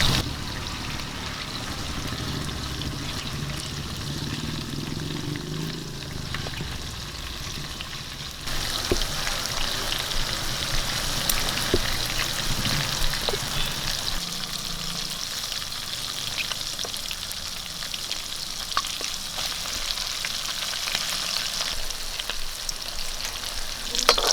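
Prawns frying in a pan for fried rice sizzle loudly and steadily up close. A brief stir or turn about a third of the way in brings a louder, brighter hiss, and no one speaks.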